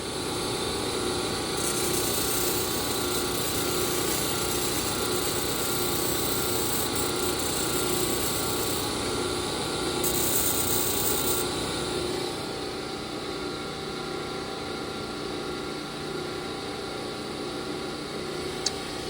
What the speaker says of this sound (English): we're gonna do a little video on just grinding these down the way